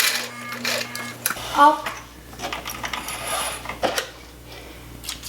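A sewing machine stitches a dart in a garment, its mechanical whirring running in short bursts alongside a steady hum, with a person speaking briefly over it.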